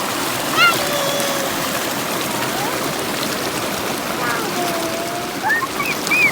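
A river runs at a riverbank by a camping ground, a close, steady broadband rush of flowing water that fills the whole stretch, with faint chirps and short voices over the top.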